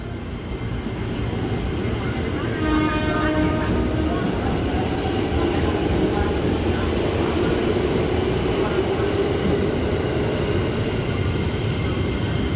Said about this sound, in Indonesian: hati-hati kereta api melintas langsung 3 dari arah selatan